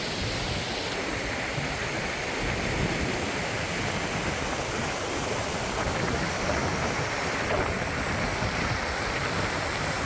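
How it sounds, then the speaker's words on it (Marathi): A monsoon-swollen waterfall in Satara, Maharashtra, where an overflowing lake pours down steps, makes a steady, dense rush of falling water that fills the whole stretch alone without a break. "धबधब्याचा आवाज तर तुम्हाला ऐकू येतच असेल."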